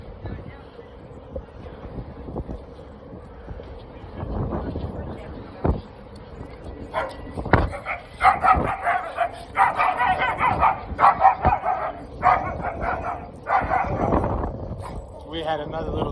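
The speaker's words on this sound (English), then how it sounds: "We had another little dog over there that was really loud." A small dog barks loudly in repeated sharp yips amid busy street bustle on the Las Vegas Strip, the barks clustering in the second half over a background of people talking.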